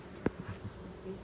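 Honeybees hum around a beehive in a faint, steady drone, broken early by one sharp tap and a few soft knocks, with no clear speech.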